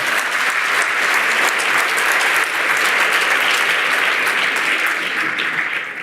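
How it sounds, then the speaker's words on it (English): Loud, sustained applause from an audience at a talk on leading with purpose, a continuous dense roar of clapping hands lasting about six seconds. "Yes, you can applaud that."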